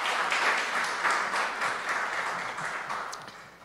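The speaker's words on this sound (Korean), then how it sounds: "한번 박수로 격려해 주시면 감사하겠습니다." Audience applause at a church seminar and book launch service, a steady wash of clapping from a crowd that fills the room and fades slightly toward the end.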